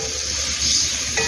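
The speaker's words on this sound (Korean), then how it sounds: "이건 그만 볶을게요." Mushrooms sizzle in a hot pan as they are stir-fried, a steady close crackle with a light clink of a utensil near the end.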